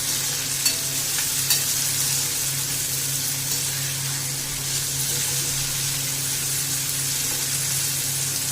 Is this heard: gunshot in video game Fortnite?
no